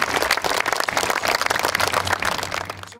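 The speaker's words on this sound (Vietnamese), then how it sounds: "đã xin một tràng pháo tay nữa cho bài quốc ca Hoa Kỳ" Applause rings out at a US Navy ceremony promoting Nguyen Tu Huan to rear admiral, following the US national anthem: a dense, steady crowd clapping that fills the whole three seconds at even strength before easing slightly at the end.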